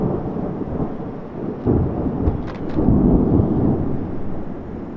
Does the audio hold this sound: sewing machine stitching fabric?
no